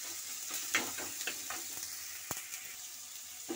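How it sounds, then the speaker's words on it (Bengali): Spices with garlic, ginger and salt frying in a pan, a dense close sizzle with a series of spoon stirs and scrapes, one sharp knock near the middle, no talk. "একসঙ্গে সব কিছু মিশিয়ে নেব।"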